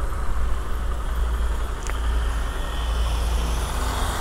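A delivery motorcycle rides through city traffic to overtake a slow car. A loud, continuous engine and road roar with wind rumble stays close throughout.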